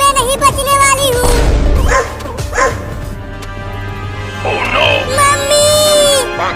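A dog barks and yips in a desi village comedy skit, several sharp barks standing out over background music and voices near the start and again later.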